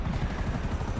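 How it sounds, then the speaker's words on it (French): A helicopter in the online game Grand Theft Auto Online gives a low, pulsing rotor thrum, fairly close and steady through a brief moment. "Oh là, y a l'hélico là qui est parti là."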